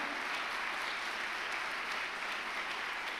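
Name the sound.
congregation applauding loudly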